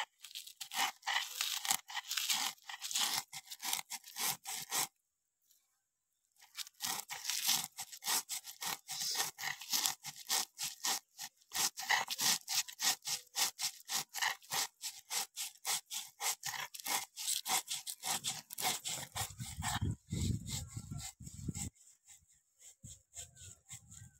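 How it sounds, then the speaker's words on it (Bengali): Cauliflower leaves are ground village-style with fried chili, black mustard seeds and salt, making rapid rhythmic scraping strokes that stop briefly, then resume steadily and close. "এবার পাতাটা ভালো করে বেটে নেব"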